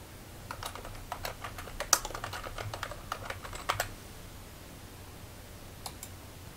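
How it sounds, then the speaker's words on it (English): Rapid clicking keystrokes on a computer keyboard, close and distinct, typed in an uneven burst for about three seconds, then a couple of isolated key presses after a pause, with no talking. "I'll just type in the transcript ID and press OK."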